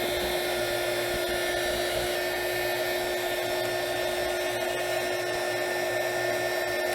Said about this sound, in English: A heat gun. Warm up that label a little bit.